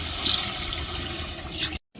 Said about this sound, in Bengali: নারিকেল মশলা কষানো শেষ, এবার পানি দিয়ে নেব।